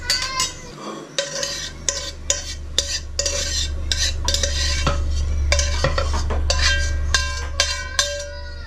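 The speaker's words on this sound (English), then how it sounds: "make sure the onions and the sausages are mixed the right way" A spoon clanks and scrapes rhythmically against a pan while onions and sausages are mixed for a German potato casserole, with sharp metallic hits over a low steady hum.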